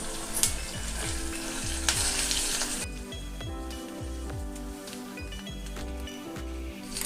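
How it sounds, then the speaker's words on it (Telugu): Sesame seeds sizzling in hot tempering oil for temple-style tamarind rice, a bright continuous crackling hiss close up with steady rhythmic stirring scrapes underneath, no voices. "1/2 టేబుల్ స్పూన్ అన్ని నువ్వులు వేసుకోవాలి పోపులో."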